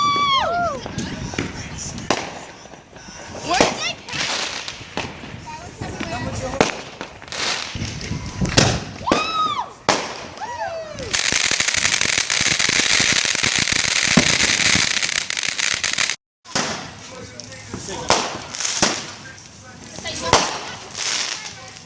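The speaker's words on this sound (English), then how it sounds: "So it started raining while we were doing the fireworks." Fourth of July fireworks bursting repeatedly over about twenty seconds, with loud bangs, whistling rising shells, and a long dense crackling barrage in the middle, while excited people shout and talk throughout.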